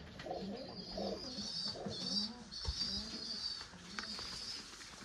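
Pigeons coo repeatedly at close range while feeding, soft throaty calls rising and falling in a steady rhythm over a faint background hiss, with no talking.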